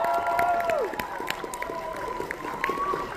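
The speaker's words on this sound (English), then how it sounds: "can we give them all a huge round of applause" An audience at an Albuquerque comic con contest claps and cheers in a loud, steady wash of applause, with a few voices calling out and some tonal sounds above the crowd.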